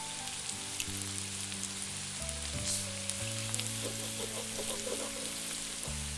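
Ginger garlic paste frying in a pan with caramelised onions for a Moharani Chingri prawn dish, giving a steady broadband sizzle with faint scraping. Steady background music with sustained tones runs underneath throughout.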